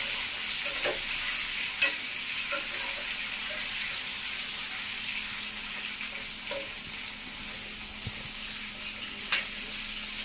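Pork sizzles steadily in a hot pan while a spoon stirs it, with a few sharp scrapes and clicks against the metal rising above the continuous frying hiss; no one speaks.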